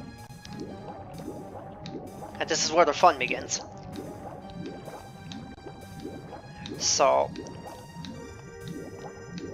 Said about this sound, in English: So, we need to drain the water.